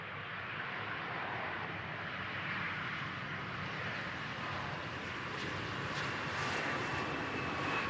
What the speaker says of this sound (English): One of the many Embraer 175s from KLM.